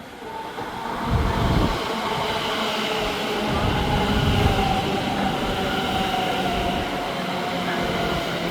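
A train passes through Milton Keynes station with a steady, loud rumble of wheels on rails, faint squealing and rhythmic clatter sustained throughout, with a distant voice faintly underneath.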